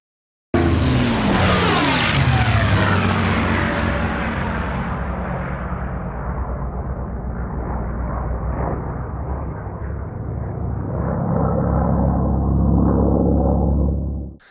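Mil Mi-2 helicopter in a flight simulator, its turbine rising sharply at start-up, then settling into a steady loud whine and rotor drone that continues without pause until it cuts off abruptly at the end.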